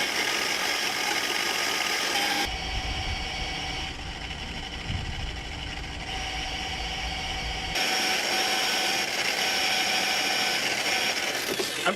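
A power tool polishing a stainless steel boat fitting to a mirror finish, a steady high whir that drops into a lower, rougher tone midway and then returns to the brighter sound.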